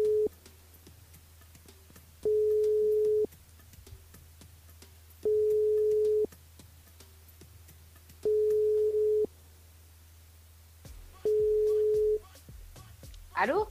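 A telephone line gives a busy-type signal while calling Erika on the switchboard: five evenly spaced steady tones about a second long, each followed by a gap, over a low hum, with a voice briefly at the end.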